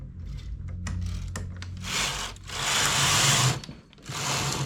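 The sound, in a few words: knitting machine carriage knitting a row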